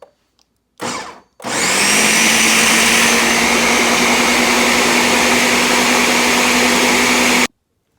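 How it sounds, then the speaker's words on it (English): After a short burst, a blender starts up and runs loud and steady for about six seconds, pureeing butternut squash into soup before cutting off abruptly. "I'm gonna pulse first, and then I'm gonna puree the butternut squash."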